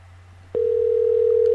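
A soft click, then a steady, unbroken telephone tone comes on and holds at an even level to the end, with no voices.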